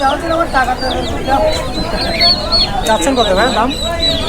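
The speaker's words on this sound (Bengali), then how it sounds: "এইটা মোরগ এটা মুরগি হান্ড্রেড পার্সেন্ট" At a Bangladeshi pigeon and poultry market, a rooster and hen cluck and crow up close, with repeated short calls over background chatter and people talking nearby.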